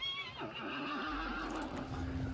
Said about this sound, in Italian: paura quel cavallo si è mosso